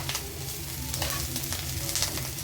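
Small shrimp frying in a pan over reduced heat give off a dense, continuous sizzle with faint stirring scrapes, close and moderately quiet.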